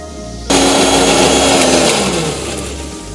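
A mixer grinder starts abruptly and whirs loudly at high speed grinding a mustard and yogurt paste, its motor pitch sagging slightly as the paste thickens, with no talking.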